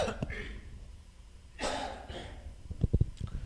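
A single sharp cough bursts out close to the microphone, followed by a few short, rough throat sounds and breaths at low volume.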